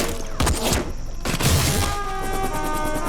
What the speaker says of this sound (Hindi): सर, एनिमी की बहुत हैवी फायरिंग हो रही है सर